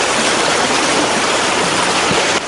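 Floodwater of the Kiramara, a tributary of the Nilwala river, breaking its banks, makes a loud, steady roar of rushing water that carries on unbroken throughout.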